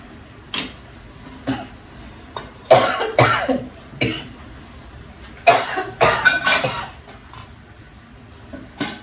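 A person coughs again and again, close and loud: short harsh bursts, some in quick clusters, separated by quiet pauses.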